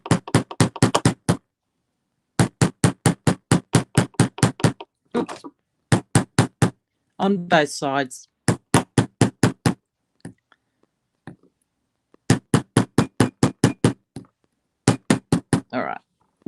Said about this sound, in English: So now we're going to do is just grab our block and our rubber hammer.